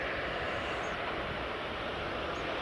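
An ATR 72-600 turboprop in Qatar livery at Edinburgh Airport, heard as a steady, moderately distant broadband engine roar with a faint tonal whine that holds constant throughout.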